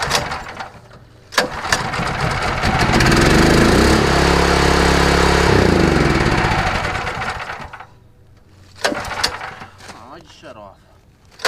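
A petrol engine on a hot water pressure washer pulls over and roars up to a loud steady run for several seconds, then winds down, with sharp clicks and knocks before and after.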